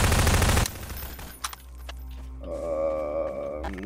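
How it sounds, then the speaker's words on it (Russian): Game gunfire in a FNAF co-op horror game, heard as a loud burst of rapid shots at the start, then quieter distant clatter and a sustained droning tone. "Я могу пострелять, чтоб ты знал, где мы."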